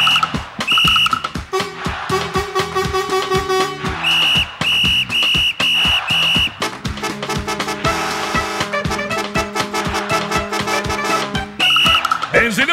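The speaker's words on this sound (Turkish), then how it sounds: "düdük çalmayı çok severim" A whistle is blown in repeated sharp, shrill blasts, some short and some held, loud and close over busy music-like backing with several pauses between bursts.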